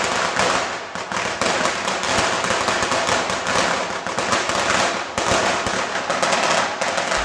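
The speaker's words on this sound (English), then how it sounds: "The weddings begin with firecrackers to chase away the evil spirits" Dense, continuous crackle of firecrackers at a traditional Chinese wedding in Qingdao, loud and close, with rapid overlapping pops and bangs running without a break for the whole stretch.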